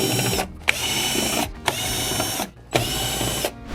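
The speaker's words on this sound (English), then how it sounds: "And now we can go ahead and get the screws." An electric screwdriver whirs in three sustained runs with brief pauses between them, taking screws out of the board of a Sony XBR-55X810C television, close and fairly loud with small clicks.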